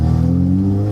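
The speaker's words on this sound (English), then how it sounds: "Exhaust about to fall off by the sound of it." A Mark IV Ford Escort fitted with a 300 bhp 2.0 TFSI VW engine and a loose, nearly falling-off exhaust gives a short, loud, close burst of throaty revving with a rough rasp.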